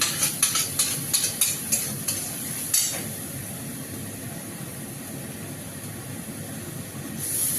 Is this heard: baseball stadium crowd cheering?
no